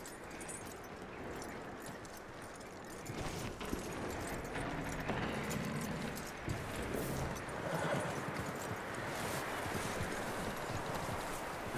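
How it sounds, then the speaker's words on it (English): Horse hooves clip-clop steadily in Red Dead Redemption 2, a continuous rhythmic trotting beat heard up close over a dense bed of ambient game noise, without any talking. "That looks like a decent horse."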